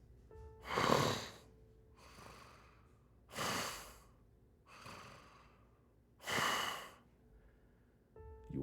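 A human voice imitates heavy, deep, guttural breathing of an unseen beast surrounded by wolves in a tabletop fantasy game, with three loud rasping breaths at steady intervals and softer inhales between them.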